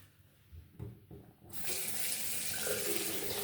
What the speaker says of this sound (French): On va un peu le rincer.